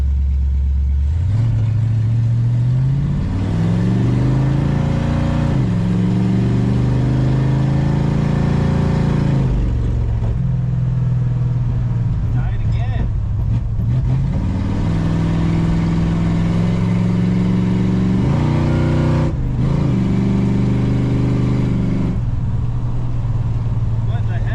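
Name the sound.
1968 Plymouth Satellite launching at drag race, accelerating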